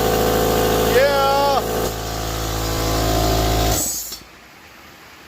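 An air compressor in a workshop drones with a steady mechanical hum, fairly loud and close, under a short spoken word, before cutting off abruptly into quieter room noise.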